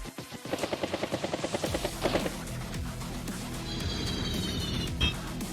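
Battlecopter attack in the Advance Wars by Web strategy game: a rapid rhythmic burst of chopping, rotor-like pulses for about two seconds, then a crash and lingering rumble with a short high chime near the end.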